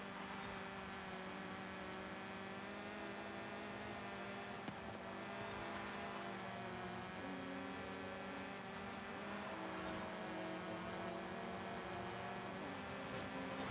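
Steady high-pitched buzzing drone of a go-kart engine in the racing game Forza Horizon 5, held at a constant pitch, moderately faint and continuous with no talking.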